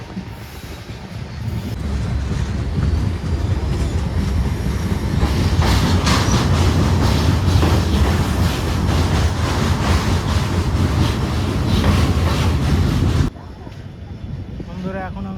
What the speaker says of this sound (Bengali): তো বন্ধুরা ট্রেন এখন ঢুকছে চালসা স্টেশন